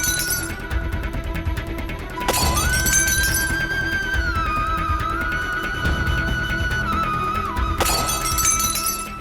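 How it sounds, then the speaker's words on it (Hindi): Glass shatters somewhere in a house with a sharp crashing burst, followed by a sustained electronic tone and a second smashing crash near the end, loud and close with no voices over it. "ऐसा लग रहा है जैसे कहीं शीशा टूटा हो"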